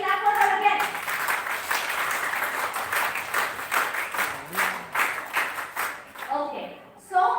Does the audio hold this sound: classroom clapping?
yes